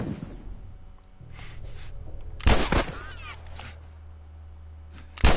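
Gunfire in The Last of Us: two loud, sharp shots a few seconds apart ring out close by over a low ambient hum and scattered quieter clatter.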